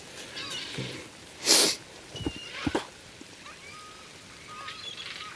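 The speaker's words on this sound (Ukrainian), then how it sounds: "О! А, блін, Чайки." A few short, harsh gull-like cries sound at a distance over quiet outdoor background, with one louder burst of noise in the middle.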